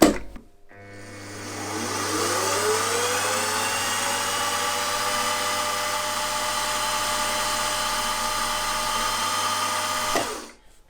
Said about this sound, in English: so just centre drill in the centre.